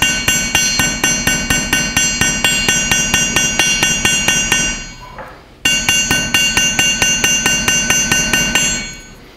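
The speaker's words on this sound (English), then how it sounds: "every time I hit it with a hammer," Steady metal-on-metal hammer blows shaping and curving a piece of metal in a studio, loud and close in an even rapid rhythm of about two strikes per second, with a brief pause midway before hammering resumes.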